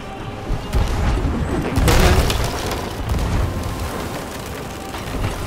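Ship cannon fire in a pirate game with explosive barrels, a series of deep booms with the loudest blast near two seconds, followed by rumbling mechanical clatter and lingering low thumps.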